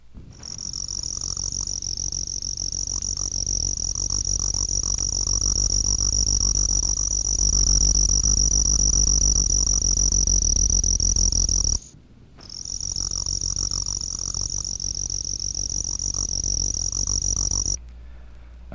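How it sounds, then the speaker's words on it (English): Spotted ground cricket (Nemobius maculatus), a species of leaf litter in dry woods, gives a steady high-pitched trill that runs continuously, breaks off briefly near the middle, then resumes, with no voices. "A jerky trill is produced by the spotted ground cricket, Nemobius maculatus, which also sings in leaf litter in dry woods."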